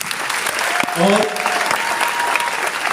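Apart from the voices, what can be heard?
audience applause for leaders at a training session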